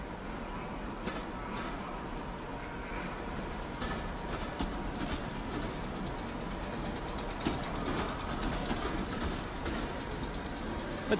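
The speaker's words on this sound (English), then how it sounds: "A Class 310 commuter train arrives at Euston alongside a train of Mark 1 sleepers." A Class 310 electric commuter train rolls into Euston beside a rake of Mark 1 sleeper coaches, giving a steady mid-level rumble with faint rail clatter and no clear voices.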